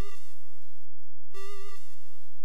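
A bright, buzzy chiptune synth tone from a ZX Spectrum Next plays in short repeated notes, each followed by a quieter echo at the same pitch.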